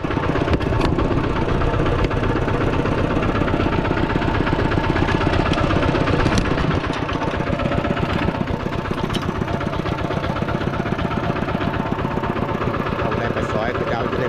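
A tractor engine runs continuously, a loud, steady chugging drone throughout.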